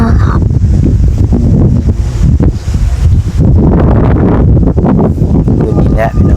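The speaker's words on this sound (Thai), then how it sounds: "คืนนี้แหละพี่น้องเอ้ยลมเย็นเนี่ยเนาะ" Loud, steady wind buffets a microphone outdoors on a cool night in the countryside, producing a rough low rumble that swells and dips throughout, with muffled talk underneath.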